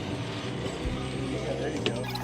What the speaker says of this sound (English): Oh, you're a wincher. Yeah, a little winch.